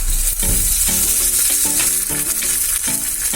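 Curry leaves crackle and spit in hot oil with browning garlic while making an aloe vera pickle, loud, close sputtering pops over a continuous sizzle, with no talk.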